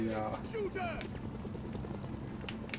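Helicopter rotor and engine drone in the video game Mercenaries 2, a steady low thrum running under busy game sounds and a voice for the whole stretch.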